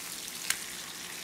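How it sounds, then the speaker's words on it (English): Peri peri fish fries in a pan with a steady hiss of hot oil; two brief clicks mark the spatula turning it over, with no voices. "I'm about to go ahead and flip my fish"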